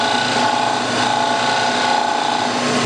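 A negative rake scraper shaping and thinning the rim of a spinning poly and swarf bowl on a lathe, giving a steady, loud, continuous scraping hiss with a mechanical whir and no talk.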